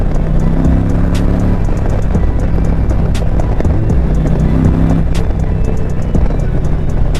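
A 2021 Indian Challenger motorcycle's engine accelerates under load, a loud, steady, close engine roar with heavy wind rush throughout.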